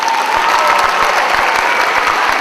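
A high school winter concert audience applauds its performers, dense steady clapping from a crowd filling the hall for a couple of seconds.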